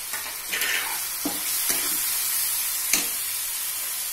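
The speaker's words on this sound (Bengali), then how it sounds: "সব গুঁড়ো মশলাগুলো আমি দিয়ে দিচ্ছি।" Ground chili, turmeric, cumin and coriander powders frying in a hot pan for a jackfruit dal, giving a continuous bright sizzle with a few sharp crackles and stirring scrapes.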